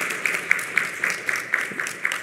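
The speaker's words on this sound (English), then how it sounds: "Let's give them one more round of applause." An audience at an interfaith dialogue gives its panel leaders a round of applause, a steady patter of many hands with small peaks, fairly distant and moderately loud, with no voices over it.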